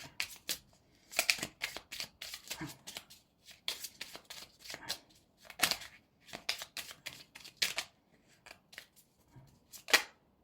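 Oracle guide cards being shuffled and drawn, giving quick bursts of crisp riffling and slapping in an uneven rhythm with short pauses between, close and fairly quiet.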